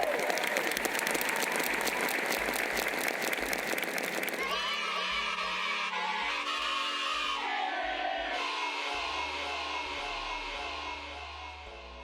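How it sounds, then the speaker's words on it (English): A crowd at a talk event breaks into dense applause with some cheering and whoops, loud at first and then thinning after a few seconds into scattered clapping that fades out. "So, round of applause."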